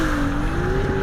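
Ferrari 296 GTS, an 800-horsepower rear-wheel-drive car, with its engine holding a loud, steady, close tone while the pitch slowly climbs, sliding in damp conditions.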